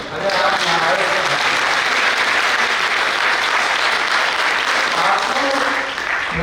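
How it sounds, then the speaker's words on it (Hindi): Audience clapping at an office inauguration ceremony for a local election team: dense, loud, continuous applause from a crowd that holds steady for several seconds before easing slightly near the end. "इधर से ताली बजेगी"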